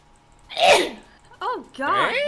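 A single sharp sneeze bursts out during a playful online game session, followed by short voiced exclamations and talk.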